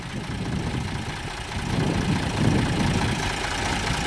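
Tractor engine idling, apparently a U550 with an Italian-made engine, heard as a steady, low, rumbling purr at moderate distance that swells slightly partway through, with no talk.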